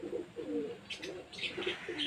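Flock of nine pigeons being flown, low murmuring coos with faint higher chirps and rustles, steady and moderately close throughout.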